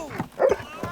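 A dog in the animated Heidi series gives a short bark or yip amid brief voice-like sounds. It is moderately close and lasts about a second.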